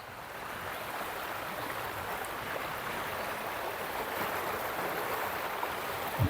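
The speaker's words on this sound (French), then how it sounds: "Et là, la rivière." Near a campsite, a river flows steadily with a continuous broad rushing wash, even and unbroken throughout and heard alone without talk.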